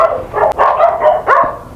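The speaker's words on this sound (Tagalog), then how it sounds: "Daming aso dito, buti nakakulong." Several sharp dog barks and yips in quick succession, fairly close, with a brief whimpering tone near the end; no one speaks.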